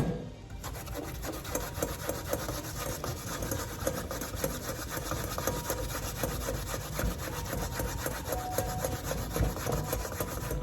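Malanga root is grated by hand for Haitian akra, with a continuous rough rasping scrape repeating in quick even strokes, close up and alone throughout.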